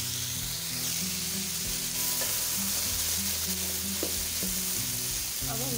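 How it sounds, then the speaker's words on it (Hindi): Mixed vegetables of potato, peas and carrot fry in a pan with a steady close sizzle, broken by a few scrapes and clinks of stirring, no voices. "दो मिनट तक इसे फ्राई करेंगे"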